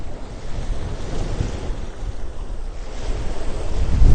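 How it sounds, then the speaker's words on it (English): Ocean surf washing onto a Rhode Island beach after a snowstorm, a steady low roar of breaking waves with wind buffeting the microphone, building louder toward the end, no voices. "You can hear the water, the waves."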